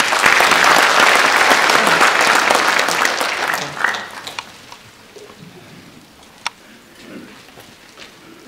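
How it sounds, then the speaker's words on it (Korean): Audience applause at a Korean civic group's gathering in Gangneung, dense and loud for about four seconds, then thinning to a few scattered claps and a faint murmur. "여러분 박수 부탁드리겠습니다."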